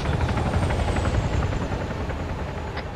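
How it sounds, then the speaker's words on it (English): A helicopter in the Arma 3 video game holds a steady, loud rotor and engine drone with a dense low rumble throughout, and faint gunfire-like cracks are mixed in. "Helicopter engaging."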